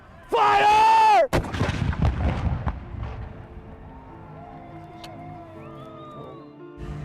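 A single loud blast from a Virginia Tech cannon, a stronger cannon than the original brass one, cracks sharply and then rolls into a fading, echoing rumble outdoors.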